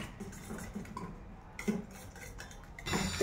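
A utensil mixes egg omelette batter with onion, salt, capsicum, chilli, coriander, turmeric, cumin and spices in a bowl, producing quiet, irregular clinks and scrapes with a few louder taps.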